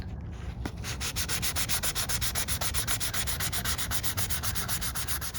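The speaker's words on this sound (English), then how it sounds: "I'm not even pressing, I'm just letting the sandpaper do the work" Sandpaper rubs primer on the body of a Honda Accord CD7 in steady, rapid back-and-forth strokes, close and fairly quiet, a regular rhythmic rasp with no talking.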